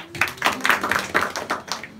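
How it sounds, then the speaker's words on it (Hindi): Students at an intermediate college clap in a short burst, roughly a dozen distinct hand claps in an uneven rhythm, close and fairly loud, lasting about two seconds. "ताली बजाने के लिए"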